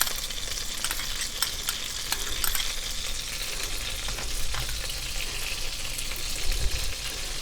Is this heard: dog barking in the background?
no